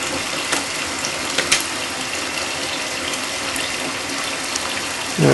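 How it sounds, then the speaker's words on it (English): Steady rushing of tap water pouring into a basin, continuous and fairly loud, with a few faint clinks and a low thump at the end. "fill your sink up with that water from the tap"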